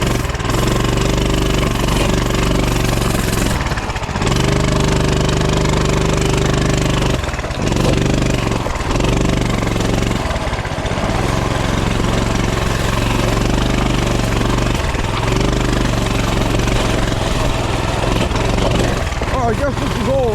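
A Coleman CT200U mini bike engine drones loudly and continuously while riding over rough, rocky trails, its steady note briefly dipping several times as the throttle eases, with a voice faintly under it.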